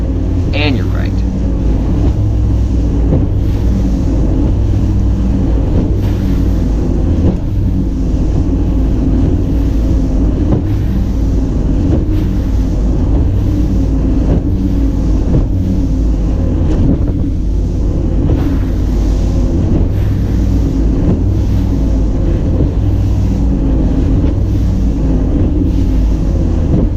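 Bass boat running across choppy waves on southern Lake Michigan, with waves rebounding off rock walls; constant roaring wind buffets the microphone over engine drone and water slap, with no quiet moments.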